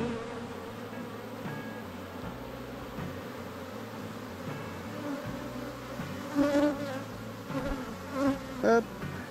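Buckfast honeybees buzz in a dense, steady drone as a fertilised queen is released into the hive, with a few louder, closer passes of individual bees near the end.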